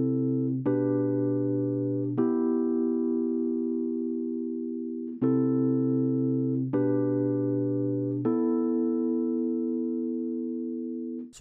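Sustained electric piano chords in FL Studio ring out one after another, each struck cleanly and left to decay, with no voices.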